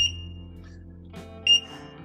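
A short high electronic beep from a Ninebot One S2 electric unicycle, then a brief clatter and a second beep about a second and a half later, over a low steady hum.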